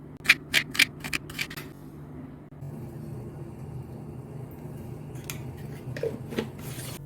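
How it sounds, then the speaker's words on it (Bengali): A knife cuts an ash gourd (chal kumro) into long strips on a board, giving a quick run of sharp, close chops at the start and a few more near the end, over a steady low room hum. "চলুন তাহলে আমি পুরো চাল কুমড়োটা এভাবে কেটে নিই।"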